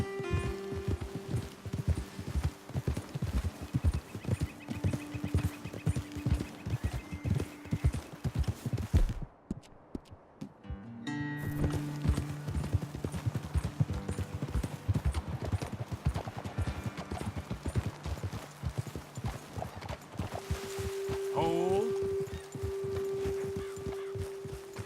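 Horses walk at a steady pace in Red Dead Redemption 2, their hooves clip-clopping continuously over game music and ambience. A brief near-silent gap interrupts the sound partway through.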